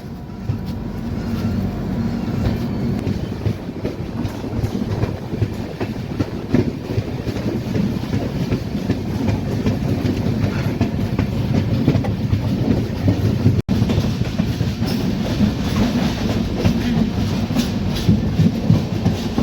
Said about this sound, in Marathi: कुडाळ रेल्वे स्टेशनवरून आपली ट्रेन जी आहे ती निघालेली आहे